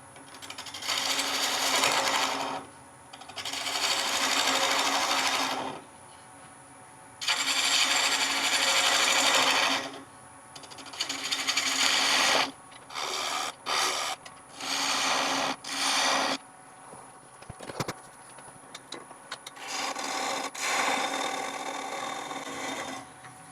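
A woodturning lathe tool shaves a small wooden stub off a ring tool handle in several loud bursts of rasping cut noise separated by short pauses, the later bursts choppier and briefer, with no one speaking.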